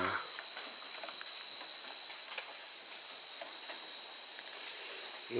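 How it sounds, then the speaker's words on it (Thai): A continuous high, shrill cicada drone buzzes steadily throughout, loud and close, over a faint hiss with occasional soft ticks. "มีจักจันนะครับ มาเกาะขา"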